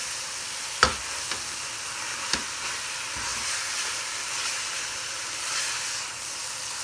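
Grated carrots frying in desi ghee for gajar halwa give a steady, even sizzle and hiss throughout, with a few sharp clicks of a spoon or pan near the start and no talking.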